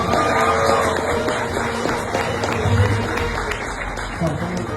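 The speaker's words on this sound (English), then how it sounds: "Round of applause, guys. Round of applause." A crowd at a celebrity appearance by actor Engin Altan Düzyatan in Birmingham, England, claps continuously in a dense, sustained round of applause, with voices mixed in throughout.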